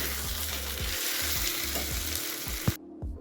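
Brinjal (eggplant) pieces stir-fried with peanut spice powder (palli karam) in a pan, giving a loud, continuous close-up sizzle over repeated stirring pulses before cutting off abruptly near the end.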